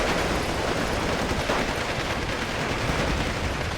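Close-range gunfire in the war game Steel Division 2, Marines fighting Panzer Grenadiers: a dense, unbroken roar of rapid machine-gun bursts and overlapping shots, loud and constant throughout.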